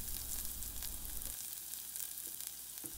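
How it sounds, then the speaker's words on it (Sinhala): Chopped garlic and curry leaves fry in hot oil, making a faint, steady sizzle with no talk. "දැන් අපි මේ කරපිංචියයි සුදු ලුණුයි විනාඩියක් විතර මේ විදිහට ෆ්‍රයි කරගන්නවා."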